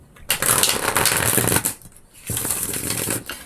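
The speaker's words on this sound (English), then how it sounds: "I'll give this a quick shuffle." Tarot cards riffle and shuffle briskly in two long bursts with a short pause between, close and crisp.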